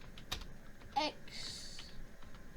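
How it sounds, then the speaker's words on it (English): Light typing on a computer keyboard, a few soft scattered keystrokes at close range, faint overall, with a brief child-like vocal sound and some background murmur. "I'm just gonna type in the chat"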